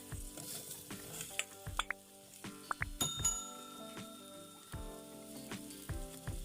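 Pineapple pieces sizzle softly in a pan while a utensil clinks and scrapes against the metal in scattered, close taps over a low, steady frying hiss.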